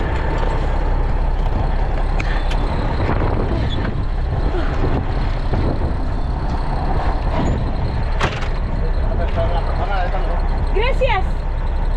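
A truck giving a hitchhiker a lift in Mexico rumbles with a heavy, loud diesel drone, punctuated by brief hisses like air brakes, while people talk over it.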